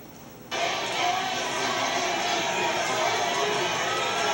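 A studio audience on The Price Is Right game show chants a $750 price, a loud, dense crowd roar that bursts in after half a second and holds steady to the end.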